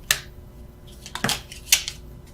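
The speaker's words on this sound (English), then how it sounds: "I was just shuffling for the sake of it." Tarot cards being handled and shuffled, heard as three separate crisp snapping flicks spaced across a couple of seconds in an otherwise quiet room.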